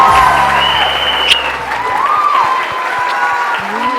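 A TV studio audience at a morning show claps in steady, close applause that holds throughout, with faint tonal sounds underneath.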